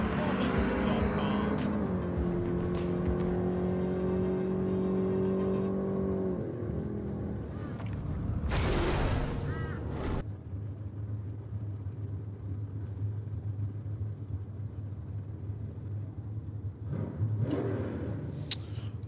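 Big heavy American muscle cars at a drag strip start line, with deep engine rumble and revving that builds, cuts off abruptly, then settles into a low steady idle, with talk over it.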